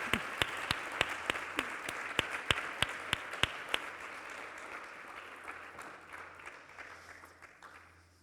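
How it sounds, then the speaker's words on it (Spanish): An audience at a book talk breaks into applause, with sharp distinct claps over a wash of clapping that gradually thins and fades out. "Un aplauso, ¿no?"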